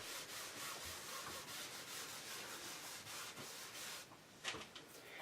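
An embossing buddy pad is rubbed over paper in steady, soft back-and-forth strokes, faint and close, ending with a few light taps.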